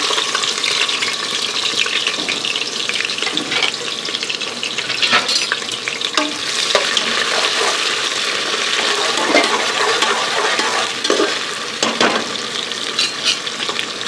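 Continuous loud sizzling and crackling of onions frying in hot oil in a pressure cooker for beef biryani, with occasional sharper pops and stirring scrapes throughout.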